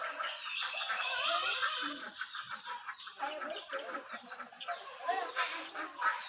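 Several ducks near a village outdoor stove call in quick, choppy bursts of nasal chatter, close by and moderately quiet, continuing unevenly for several seconds.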